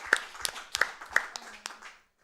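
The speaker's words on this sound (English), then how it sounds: "can I get some clapping for Easy?" A small audience at a speedrunning event claps for a runner, giving a handful of sharp, separate claps spread over two seconds, close and fairly quiet before stopping.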